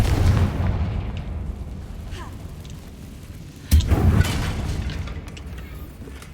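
Confringo fire spell blast in Hogwarts Legacy, a sudden sharp booming explosion midway through, standing out against a low, rumbling game soundscape with scattered faint effects around it.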